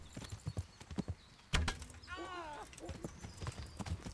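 Quick hoof clip-clops from a video game, Kingdom Come: Deliverance, tap out a rhythm, broken by a sharp thud and a brief horse whinny in the middle.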